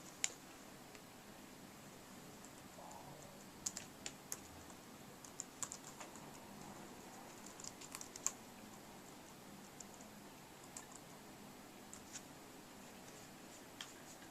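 Quiet keystrokes on a computer keyboard as a package name is typed into an Android prototype app, scattered irregular clicks in short bursts with pauses, alone without talk.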